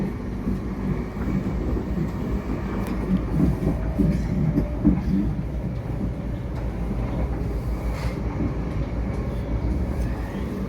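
A passenger train heading toward Cambridge rumbles steadily along the rails, heard from inside the carriage as a continuous low roar with faint clicks and rattles over the track.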